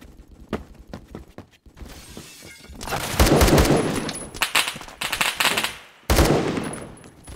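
Automatic gunfire in Roblox Phantom Forces, bursts of rapid shots building from scattered pops into dense, loud volleys with a brief break before another burst.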